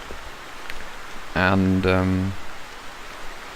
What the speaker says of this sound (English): today we are on Settler Creeks on this awfully rainy day